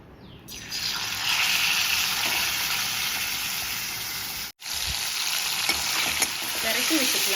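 Masala-marinated curry leaves dropped into hot oil, bursting into a loud, continuous sizzle that holds steady, cuts out for an instant midway, then resumes with scattered crackles.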